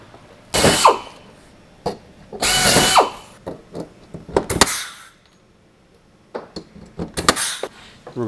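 A pneumatic rivet tool sets a PC 000 102 rivet in the panel of a PolyJohn portable toilet unit during assembly, giving several short, loud mechanical bursts with quiet gaps between them, and no one speaks.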